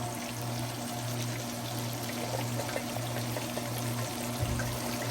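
Two cans of hominy and their juice pour steadily into a skillet, a continuous close liquid splash and trickle lasting several seconds with no talk.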